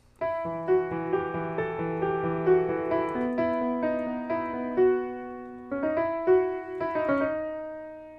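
A solo piano plays the slow introduction of a song, single notes and chords ringing out and fading, with a short pause before the final phrase.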